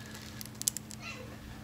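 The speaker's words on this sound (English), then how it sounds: "And there's my cat who just meowed." A house cat gives a single short, quiet meow, faint and brief against a soft steady background hum.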